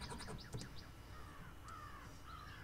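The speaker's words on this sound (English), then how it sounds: "Hear the crow?" A crow caws in a slot machine game, a few harsh calls rising and falling, faint under a steady background hiss.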